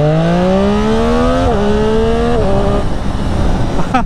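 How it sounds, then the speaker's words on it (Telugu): A Triumph Street Triple inline-three motorcycle fitted with an Akrapovic carbon exhaust revs loud and close, its engine note rising in pitch in stepped pulls before dropping off near the end. "ఇప్పుడు అసలు పర్ఫెక్ట్ ఇన్లైన్ 3 సౌండ్ అనేది వస్తుంది ఎవ్రీ టైం"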